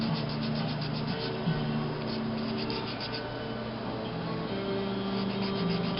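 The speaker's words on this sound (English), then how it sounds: "So the last little bit of sanding here we're doing with 600." Carved bone being wet sanded by hand with 600 grit sandpaper: a steady, close, soft rubbing rasp that keeps going without a break and without talk.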